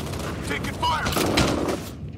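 Rapid gunfire in the shooter F.E.A.R., a steady crackle of shots that swells louder midway and then drops away abruptly at the end.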